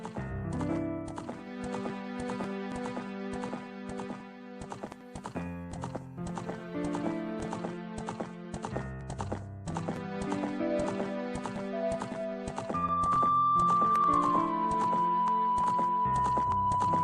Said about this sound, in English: At number 4, we have Epona from the Legend of Zelda series. Classic horse, classic animal companion